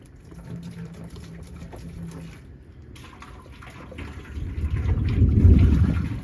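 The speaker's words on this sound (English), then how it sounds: "we want to go ahead and add a little bit of water." Water is poured into a hot pot while making blueberry wine. A low, rushing pour builds and grows louder toward the end, with no talking.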